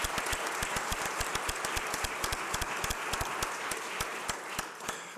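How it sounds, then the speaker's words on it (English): A round of applause at an awards ceremony, the Richardson Dilworth Awards, dense rapid clapping with sharp individual claps standing out, steady and fairly loud for about five seconds. "who should get a round of applause on that"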